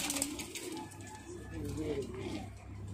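Madrasi pigeons in a Kolkata loft give soft, brief coos beneath a man's speech, close by and fairly faint.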